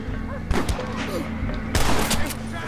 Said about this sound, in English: I shot the innocent guy